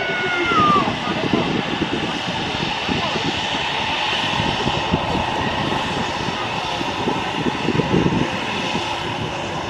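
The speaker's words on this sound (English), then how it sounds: "there is a Jet2 737-800 just taxiing out there" A Jet2 Boeing 737-800 taxis at Manchester Airport, its engines giving a steady, fairly distant whining roar with a broad rumble beneath, while someone talks over it the whole time.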